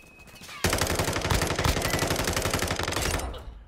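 Sustained rapid automatic gunfire from an FSS Hurricane in Call of Duty: Modern Warfare II, a loud continuous burst lasting about three seconds after a quiet start, then cutting off.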